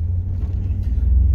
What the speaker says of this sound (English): You can listen to it sputter and all the issues she has.